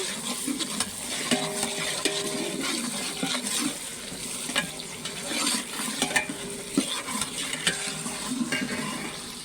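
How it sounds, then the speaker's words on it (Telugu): Onions frying with ginger garlic paste in a pan for catering-style mutton curry give a steady sizzle, with the ladle scraping and clinking against the pot now and then. "ఉల్లిపాయలు మంచిగా ఫ్రై అయిన తర్వాత"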